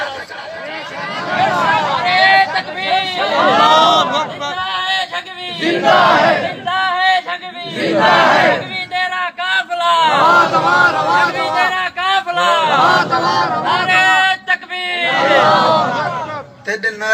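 A large religious gathering answers chanted slogans in unison, loud roaring crowd responses rising and falling in repeated waves, alternating with a single man's amplified calls between them.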